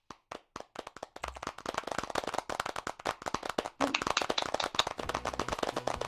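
Audience clapping at an awards ceremony, starting as a few sharp separate claps and quickly building into dense, rapid applause that grows louder and fuller toward the end.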